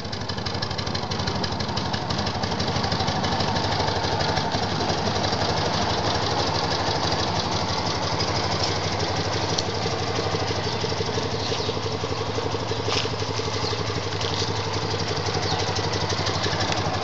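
A warmed-up 1972 BMW R75/5 motorcycle idles with its choke off, a close, loud, steady throb that runs evenly with a constant low rumble throughout.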